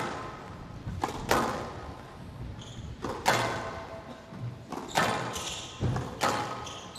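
Squash ball struck during a professional women's match at the CIB World Tour Finals: sharp, resonant thwacks and thuds off racket and walls, about five hits at an irregular rally pace over a low court ambience.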